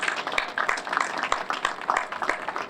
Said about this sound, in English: Please raise your hand and give them a round of applause for all their work.